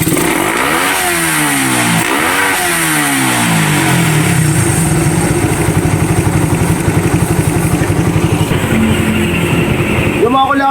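A Suzuki Raider 150 motorcycle engine with a KOSO KSR 28mm carburetor, freshly tuned, revs up and down in sharp bursts, then settles into a steady, rapid idle, loud and close.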